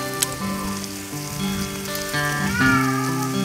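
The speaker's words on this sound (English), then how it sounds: "We'll put our onions on." Heaped onions hitting a hot griddle for a Wisconsin cheese steak sandwich give off a steady, close sizzle with a faint tonal hum underneath and no talking.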